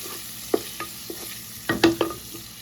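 Shrimp dropping into butter in a pot, giving a brief run of soft taps and clinks followed by a few louder splats and a quiet sizzle, no talking.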